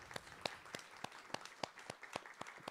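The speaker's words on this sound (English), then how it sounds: "Can you please give all these candidates another round of applause?" A small congregation at a town hall meeting claps for the board candidates, a sparse round of distinct, evenly spaced claps, fairly faint and heard alone.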